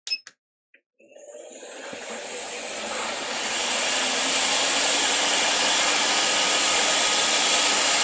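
A hot air rework station set to 320 degrees at full airflow blows onto a PS5 chip, rising after a few faint clicks into a steady, loud, hissing rush of air that holds to the end.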